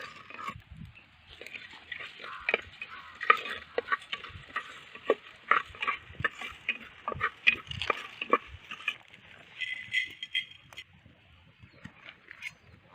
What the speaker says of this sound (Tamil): இதோட சோம்பையும் போட்டு சேர்த்து 3 ஒன்றா வறுத்துக்கிறோம்.